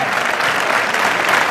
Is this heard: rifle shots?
no